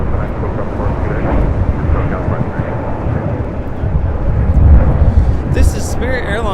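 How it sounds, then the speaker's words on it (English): Spirit Airlines Airbus A320neo departing LAX for Atlanta, a steady heavy jet roar rumbling low and broad throughout, swelling slightly near the end as the engines pull away, with no voices over it. "This is Spirit Airlines 631 taking off to Atlanta, Georgia on an A320neo."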